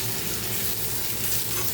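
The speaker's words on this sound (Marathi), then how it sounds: "कढईत तेल टाकलं, कढईत जिरी मोहरी आणि कांदा परतायला टाकलेला आहे." Onion, cumin and mustard seeds frying in oil in a kadhai give a steady, close hiss of fine crackling that runs unbroken and fairly quiet throughout, with no voices.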